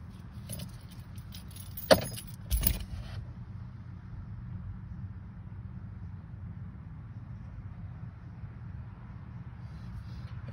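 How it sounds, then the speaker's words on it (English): Keys jangle in two quick bursts near the start as a set is taken off, then fade to a low steady hum of outdoor ambience during a rainy thunderstorm evening. "My keys. Let me take my keys off real quick."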